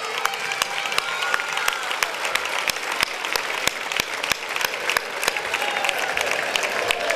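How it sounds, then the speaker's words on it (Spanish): A crowd at the 2016 Leganés festival opening applauds with dense, steady clapping that holds at an even level throughout. "Quiero mandarle un fuerte aplauso de todos los leganenses."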